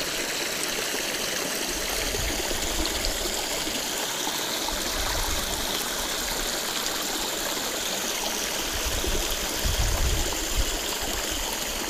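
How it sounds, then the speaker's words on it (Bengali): Water from the Chilki Jharna hill spring near Asanpani, Bandwan in Purulia streams steadily over rocks with a constant, close rushing and trickling, alone with no voices. "সারা বছরই নাকি এরকমই ধারায় জল বয়ে যায়"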